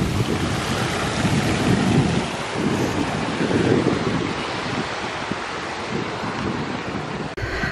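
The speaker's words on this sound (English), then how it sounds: "to stop the water flowing over the edge" Water spilling over the edge of a canal lock gate beside a narrowboat outdoors, a broad continuous rushing wash with wind buffeting the microphone, steady and fairly loud with no voices.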